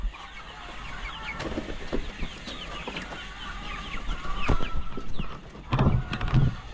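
Chickens cluck steadily in a flock, with short repeated calls overlapping at close range and a few louder bursts toward the end.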